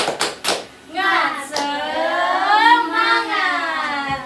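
Schoolchildren in a primary classroom perform a rhythmic class clap, a few sharp claps at the start followed by the children chanting together loudly in unison.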